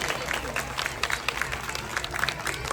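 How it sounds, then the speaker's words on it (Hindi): Parents at a school event applaud the children, a moderate scatter of hand claps from a small crowd, somewhat faint with a murmur of voices beneath. "1 मिनट के लिए तालियां बजाएं सारे बच्चों की"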